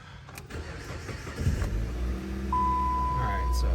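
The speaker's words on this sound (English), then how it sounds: "So I started her up." A high-mileage 2010 Dodge Avenger 2.4 cranks and starts cold, then settles into a steady, close engine idle that grows louder toward the end, with a high whine appearing after the start.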